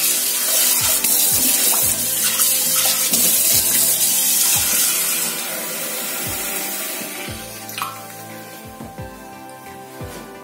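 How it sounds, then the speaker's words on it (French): About half a litre of water pours into a cooking pot for chicken curry with turmeric, a loud, steady rushing splash that thins and trails off near the end. "Je vais donc mettre un peu d'eau et je vais laisser bouillir 15 minutes."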